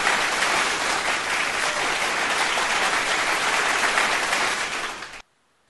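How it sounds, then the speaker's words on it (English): A crowd at a live music concert gives a loud, even burst of applause. It holds steady for about five seconds and then cuts off sharply into silence. "at least the applause is working"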